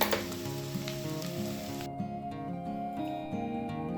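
Cluster beans and grated coconut fry sizzling steadily in a pan, a dense continuous crackle that stays loud throughout with faint stirring scrapes and no talk.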